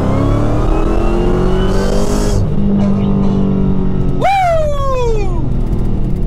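A 900+ wheel-horsepower Hellcat muscle car roars loudly up close, its engine note climbing and shifting through gears during a ride-along, with a sharp rising rev near the end; a passenger whoops over it.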